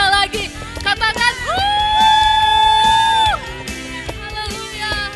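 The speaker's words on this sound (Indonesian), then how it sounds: "berikan tepuk tangan buat Tuhan kita lagi" A church congregation at a children's worship service whoops and cheers loudly and continuously for God, voices swelling together over music with a sustained sung or shouted tone.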